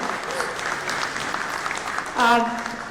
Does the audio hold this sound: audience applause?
yes